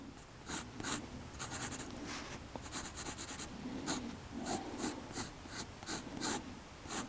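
A pencil sketches on paper while a cartoon Deadpool is drawn, giving a steady series of scratchy strokes, some quick bursts of short marks and some longer sweeps, close and fairly quiet, with no talking.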